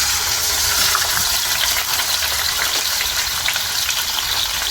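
Oil crackles and sizzles steadily in a wide frying pan while chicken fries, a dense, continuous frying hiss with no talking.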